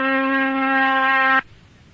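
A steady electric oscillator tone at 256 cycles per second, a clear mid-pitched buzz rich in harmonics. It is loud and constant and cuts off sharply after about 1.4 seconds.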